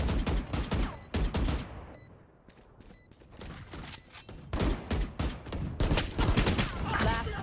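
Sharp, loud gunfire in VALORANT comes in repeated bursts of close shots, dropping to a brief lull midway before the firing resumes hard and fast.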